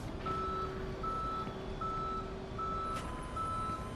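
Tow truck backing up in the police driving game Police Simulator, its reversing alarm sounding a steady string of evenly spaced electronic beeps over a continuous low engine rumble, with no talk.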